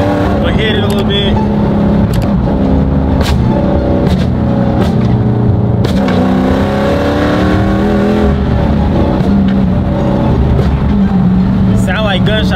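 A car drives with its windows down and engine revving loudly, throaty bursts rising and falling over constant road and wind noise from inside the cabin.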